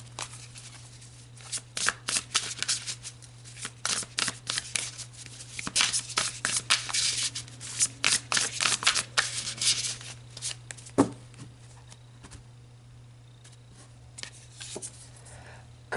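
Tarot cards are shuffled by hand in rapid papery bursts and riffles, close and clear over a low steady hum, then a few soft slides and taps as cards are drawn and laid down.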